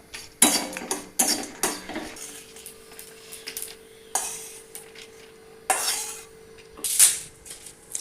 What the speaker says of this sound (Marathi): आता दालचिनी भाजून घेत आहोत